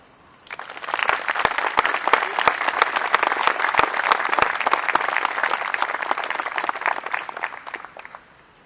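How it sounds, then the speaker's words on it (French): Sustained, dense applause from an audience at a French commemorative ceremony for the 18 June 1940 appeal, steady and even for about eight seconds before fading out. "Nous pouvons les applaudir."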